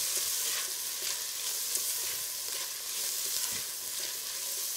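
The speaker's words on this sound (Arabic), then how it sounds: "نقلوها حتى وين تدبل شويه، باش نضيفوا عليها الشامبينيون." Chopped onion sizzles steadily in a pan for mushroom soup, with soft scraping strokes of a spoon stirring through the hiss at intervals, close and even throughout.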